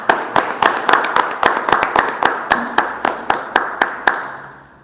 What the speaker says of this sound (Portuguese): Pode dar mais um aplauso para Jesus?